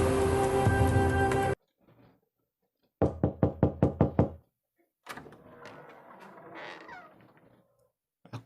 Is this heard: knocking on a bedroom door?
yes